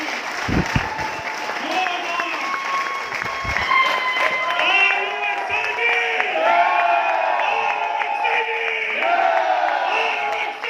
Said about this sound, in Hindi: भाई साहब तालियां जोरदार